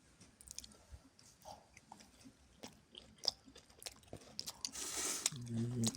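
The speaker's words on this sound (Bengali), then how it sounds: "এটা একটু খেয়ে দেখি।" Someone chewing a mouthful of silver carp curry cooked with radish, eggplant and dried fish, soft close mouth sounds with occasional crunchy bites over about six seconds, louder and denser toward the end.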